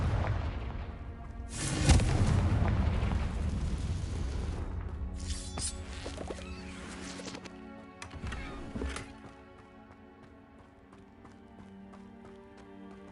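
A Confringo fire spell explodes in Hogwarts Legacy with a heavy booming blast and rumbling burst, followed by crackling, ringing debris and a decaying tail that fades under a lingering tonal hum.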